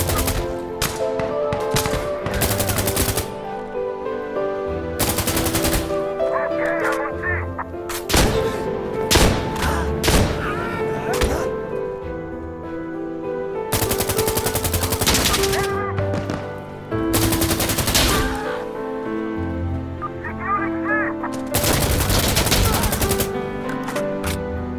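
L85A2 rifle fire in the Insurgency Sandstorm shooter game, with repeated loud bursts of rapid gunshots broken by short pauses and tonal game sounds, continuing throughout.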